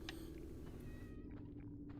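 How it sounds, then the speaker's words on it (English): A cat meows inside the survival-horror video game Haunting Ground, soft, short calls sitting over a steady low game ambience and drone. "Well, there's a cat then."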